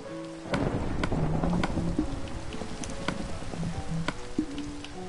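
Rain falls steadily in a Minecraft world, a dense wash of drops, and low thunder rumbles under it from about half a second in, continuous and moderately loud, with no talking.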